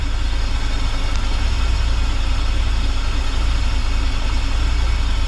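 The engine of a 1984 Bertone X1/9, fitted with new injectors, idles steadily and loudly up close. It has a deep, slightly uneven rumble and a constant mechanical hum throughout.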